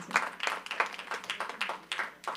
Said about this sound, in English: Please give me a big round of applause and help me in welcoming Dr. Dhiren